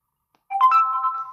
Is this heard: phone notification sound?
yes